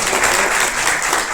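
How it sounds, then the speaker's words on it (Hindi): Applause from an audience at a Rotary Club installation ceremony, a dense, loud burst of clapping filling the whole moment without a break. "तालियों के अपेक्षा आप सभी से"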